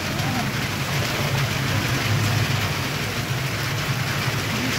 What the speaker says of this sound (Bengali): প্রচন্ড বৃষ্টি